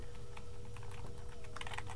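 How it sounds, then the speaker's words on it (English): Quick, close keystrokes on a computer keyboard, a steady patter of clicks with a faster flurry near the end, over a low background hum. "Then you're going to want to type the name of your Python document."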